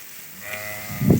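A goat in a village gives a single short bleat nearby, rising into a louder, rougher burst at the end.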